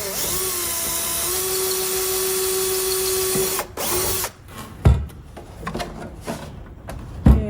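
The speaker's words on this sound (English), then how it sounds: "try to keep the drill nice and straight" A power drill whines steadily as it bores through template holes in a workpiece, then cuts off and gives way to a few knocks and clattering handling noises nearby.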